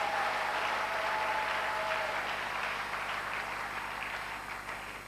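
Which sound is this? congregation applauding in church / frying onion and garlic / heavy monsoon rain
congregation applauding in church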